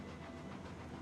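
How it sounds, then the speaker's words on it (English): Steady low rumbling chug of a steam locomotive in the railroad game Railroads Online, a continuous dense engine drone with faint hiss, fairly quiet and unbroken, with no talk. "You can hear the train, you know, it starts chugging faster and chugging slower when it's under duress"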